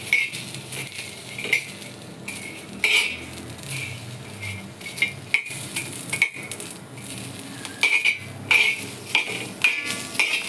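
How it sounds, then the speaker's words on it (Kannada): Black pepper, cinnamon, ginger, green chili and coconut dry roast in a pan while a utensil stirs them, making repeated metallic clinks and scrapes at an uneven pace up close, with no speech. "ಕರಿಕಾಳು, ಚಕ್ಕೆ, ಶುಂಠಿ, ಹಸಿಮೆಣಸಿನ್ಕಾಯಿ, ಕೊಬ್ಬರಿ ಇದನ್ನೆಲ್ಲ ಸ್ವಲ್ಪ ಚೆನ್ನಾಗಿ ಹುರ್ಕೋಬೇಕು"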